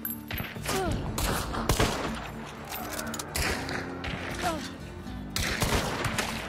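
Repeated gunshots from Hunt: Showdown, in bursts of several sharp reports with a short pause mid-way, loud and close, with faint talk underneath.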